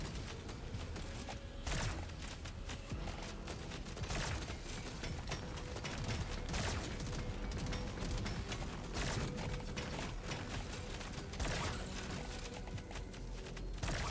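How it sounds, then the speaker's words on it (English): Coil gun in Deep Rock Galactic: Survivor firing through walls, a dense, continuous stream of rapid mechanical shots and impacts that holds steady and loud throughout, with no talking. "So this gun can shoot through walls. So you see how I'm shooting through walls here?"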